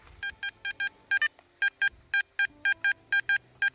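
Repeated electronic beeps from a Garrett Ace Apex metal detector responding to a target while digging in vegetable gardens, about fifteen short evenly spaced tones in quick pairs and singles, clear and close with no talking.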